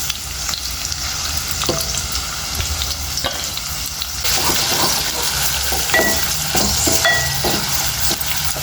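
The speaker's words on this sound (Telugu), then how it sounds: "ఉల్లిపాయలు కొంచెం మంచిగా ఫ్రై అవనిద్దాం" Onions with cardamom, cloves and cinnamon fry loudly in hot oil for cashew chicken fry and bagara rice, a constant close sizzle broken by occasional spoon stirs and scrapes against the pan.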